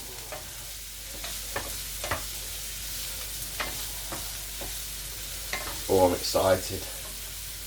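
Sausages frying in a pan with a steady low sizzle and occasional stirring clatter, a couple of louder scrapes near the end; a voice speaks briefly over the cooking.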